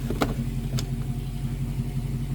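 An Infiniti FX50S engine idles steadily after a cold start with a low, even rumble, punctuated by a couple of brief clicks near the start.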